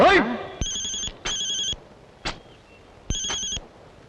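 An old-style telephone bell ringing in bursts: a brief initial rattle, then three clear repeated electronic rings with short gaps, loud and close with no voices over it.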